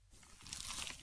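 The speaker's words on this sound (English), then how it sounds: "Is that the sound of an ooey gooey cheesy crunchy slice of P-I-Z-Z-A?" One close crunchy bite into a cheesy pizza slice, a short crisp crackle swelling and fading within about a second, quiet and without talk.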